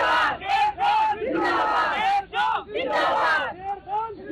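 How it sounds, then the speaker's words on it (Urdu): A large crowd at a political protest over an arrest chants slogans in loud, rhythmic call-and-response bursts, voices rising and falling together in repeated waves close by. "اس لیے یہ نعرے لگا رہے ہیں"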